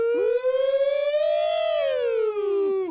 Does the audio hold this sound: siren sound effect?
yes